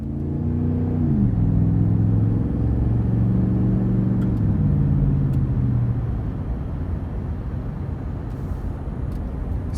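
A high-mileage 2009 Dodge Ram TRX Quad Cab pickup with a 5.7 V8 drives on the road, its engine rumbling steadily and pulling up through gear changes with rising then settling tones, loud and close from the cabin.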